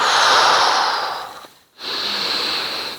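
Breathing during a Pilates exercise with dumbbells: a long, loud airy exhale, a brief quiet pause, then a steady breathy inhale close to the microphone.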